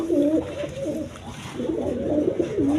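Black Spanish satin pigeons, a male and female pair, coo repeatedly in soft, low, rolling calls that come close and overlap against faint background noise.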